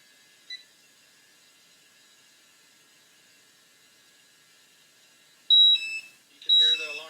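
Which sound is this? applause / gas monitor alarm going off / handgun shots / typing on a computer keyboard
gas monitor alarm going off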